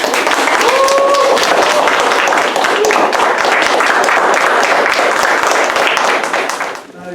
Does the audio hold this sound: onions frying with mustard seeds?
no